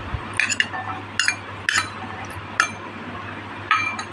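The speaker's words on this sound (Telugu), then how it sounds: "ఇప్పుడు ఈ మసాలాని బాగా అన్నీ కలిసేలా కలుపుకోవాలి" Spoon scraping and clinking against a bowl while boiled peanuts, lemon juice and masala are mixed, several distinct metallic taps spaced a second or so apart over a steady low hum.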